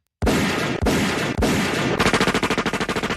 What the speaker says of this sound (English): They want to remind everybody not to fire guns up in the air on the 4th of July.